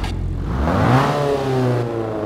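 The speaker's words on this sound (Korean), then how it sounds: "배기음은 느낌이 있어요" An old car with a classic analog dashboard fires up and its exhaust rises into a single swelling rev, loud and close, then settles back to a rough idle.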